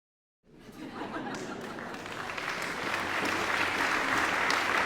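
A recorded applause sound effect plays from an Android app after a clap button is pressed, a steady wash of clapping that starts abruptly and grows fuller over several seconds, with faint crowd chatter.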